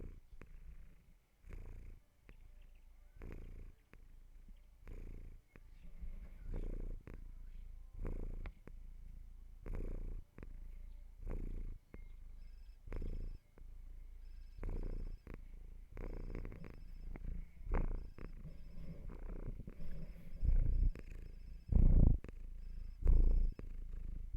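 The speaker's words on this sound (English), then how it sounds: "Can you guys hear Fluffy purring?" Fluffy the cat purring with a microphone held right up to her face, a close, steady low rumble pulsing in regular breaths for the whole stretch, with a few louder bumps near the end.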